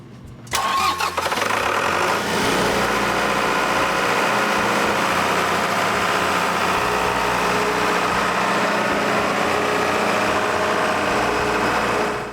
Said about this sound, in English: Let's fire it up and check for leaks